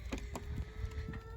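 Little chickens cluck in short bursts around a fresh water supply set up to keep it from freezing in winter, the calls fairly close over a steady low background hum.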